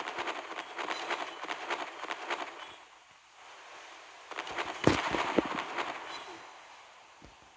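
Naval gunfire in the Naval Creed game, with repeated shell blasts and impact bursts crackling over a steady ocean-like rumble, a sharper loud hit near the middle followed by smaller pops.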